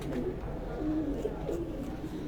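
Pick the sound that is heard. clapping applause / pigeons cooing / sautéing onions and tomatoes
pigeons cooing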